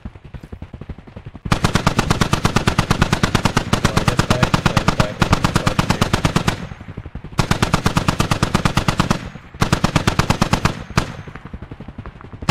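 Automatic gunfire in the military shooter game Squad comes in long, loud, rapid bursts, close and sustained for several seconds each, separated by short pauses, with no voices over it.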